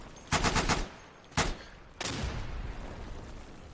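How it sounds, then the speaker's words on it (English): Bren light machine gun firing in the video game Day of Infamy, a rapid burst of loud close shots, then a single shot, then another blast with a trailing rumbling echo. "I do like the sound of the Bren."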